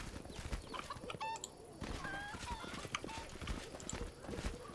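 Chickens cluck and squawk in the video game Pathfinder: Wrath of the Righteous, short scattered calls mixed with hoof-like clopping and game ambience while a voice talks over them.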